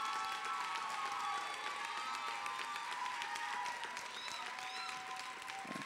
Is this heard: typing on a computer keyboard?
no